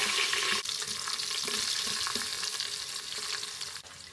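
Curry leaves and onion fry in an Instant Pot after mustard seeds have popped, giving a constant close crackling sizzle with occasional stirring scrapes, no talk.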